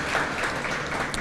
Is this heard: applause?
yes